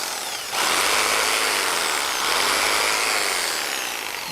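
A modified jigsaw with its safety guard removed starts up and buzzes harshly and continuously while cutting dried firewood for an outdoor fireplace, loud and close with no voices.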